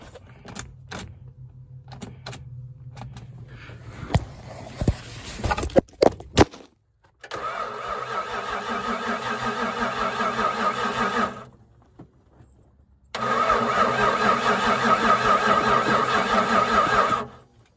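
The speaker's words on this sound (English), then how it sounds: "Definitely cranking slow. Battery's probably too low." A Ford Bronco engine cranks slowly on a low battery in snowy weather, with two long labored bursts of steady starter whirring separated by a pause, after some clicks and handling noises.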